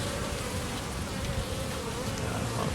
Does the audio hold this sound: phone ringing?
no